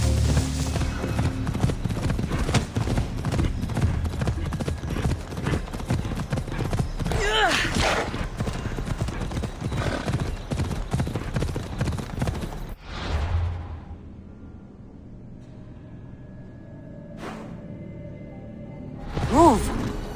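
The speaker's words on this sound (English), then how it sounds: "I need to take this horse either to Adonis or to the stable boy." Rapid rhythmic horse hoofbeats clatter loudly for several seconds amid Assassin's Creed Odyssey game sounds, then fade into quieter ambience with a couple of brief whooshes.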